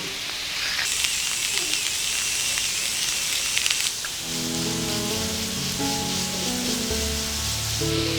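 Carrots stir-frying in plenty of olive oil in a hot pan on high heat, giving a steady, bright sizzling hiss that fills the clip, with gentle music joining partway through.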